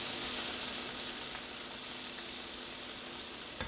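Chicken pieces frying in a pan, a steady, dense sizzle that holds evenly for the whole stretch with no voices over it.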